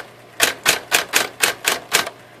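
A Smith Corona Coronet electric typewriter strikes eight crisp, evenly spaced keystrokes at a steady rhythm, close and loud over a low motor hum.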